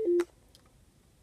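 A Jeep Patriot's Bluetooth phone system gives a short, single beep tone as a call ends, followed by a faint click and quiet cabin hum.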